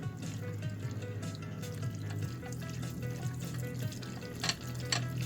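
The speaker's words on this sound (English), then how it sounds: "now we stir the udon and the sauce" Yoko Street curry chicken udon being stirred with its sauce, soft wet squelching and slurping of noodles and liquid with faint scraping, close and fairly quiet throughout.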